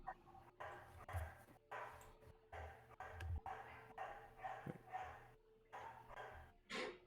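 A dog barking in bursts, loud repeated woofs with brief pauses between them, heard from nearby over a quiet room background.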